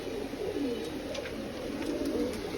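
Newly hatched Madrasi pigeon chicks at a home loft in Bangladesh, heard as soft, steady low cooing that continues throughout, fairly close and alone with no talk over it.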